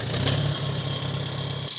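A Farmall 140 tractor engine cranking on the starter and catching into a steady, low mechanical rumble, close and loud, with a brief hiss of noise above and no voices.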